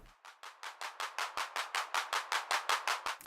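A sampled Roland 808-style electronic clap from Soundpaint repeats in a fast, even pattern of about fifteen sharp bursts, each with a short noisy decay, clean and fairly quiet with nothing else underneath.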